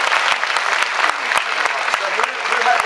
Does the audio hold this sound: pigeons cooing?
no